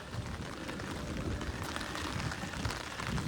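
Rain falls outdoors over a garden, a steady, dense patter and hiss with no pauses, moderately close and even throughout, with no voices.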